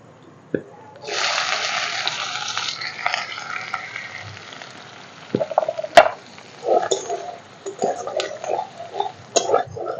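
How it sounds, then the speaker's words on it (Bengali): Chopped onions hit hot oil in a wok with whole garam masala and bay leaves for a Bengali-style chicken curry, setting off a loud close sizzling burst that eases into a steady fry under scraping stirs and sharp utensil clinks. "ভাজা হয়ে গেছে, এবার পেঁয়াজ কুচিগুলো দিয়ে দেবো।"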